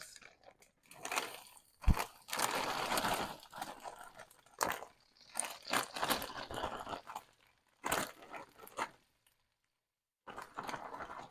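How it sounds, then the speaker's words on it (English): Frozen shredded potatoes added to a pan give crisp crunching and crackling bursts in irregular clumps, close by, with brief pauses between them and a short silence near the end. "Now I'm going to add my potatoes."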